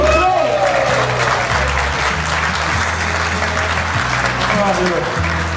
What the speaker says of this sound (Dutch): Maak een applaus voor Team 2!